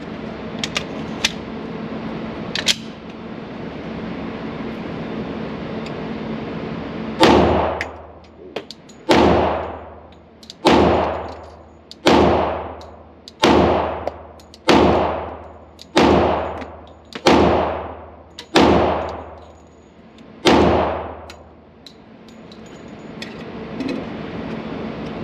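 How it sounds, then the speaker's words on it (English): Glock 20 Gen 5 pistol fired at a range, about ten sharp loud shots in a steady paced string, each with a quick decaying echo, after a few faint distant pops and steady background noise. "now it's time for the Glock 20 Gen 5"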